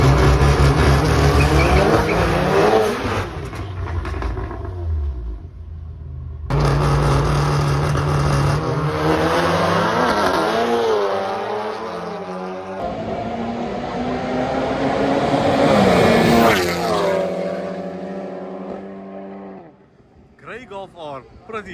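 Volkswagen Golf R cars drag racing on a strip, loud engines roaring and revving through gear changes in several long passes, with a commentator talking over the noise.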